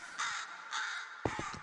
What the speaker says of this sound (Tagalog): Tinatawanan ako ng uwak.